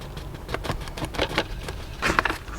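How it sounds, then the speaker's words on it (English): Light rain falls outdoors, a soft irregular patter of drops tapping close by in a continuous, gentle texture with no voices over it. "now it's a little rainy"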